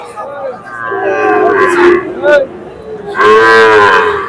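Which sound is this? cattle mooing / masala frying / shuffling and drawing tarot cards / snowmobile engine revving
cattle mooing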